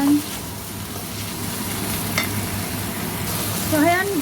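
Garlic sautéing in a pan for a Filipino ginisang Chinese spinach dish, a steady close sizzle with stirring scrapes throughout and a brief voice rising near the end.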